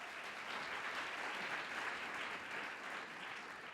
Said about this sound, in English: let's keep the clapping going